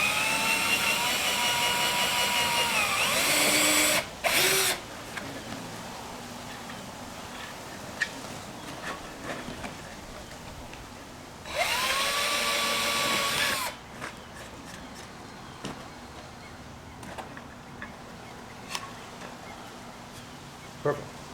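A power drill with a larger bit works on hardware for a French-style courtyard garden project, whining loudly in two bursts of a few seconds each, with quieter handling knocks and some talk in between.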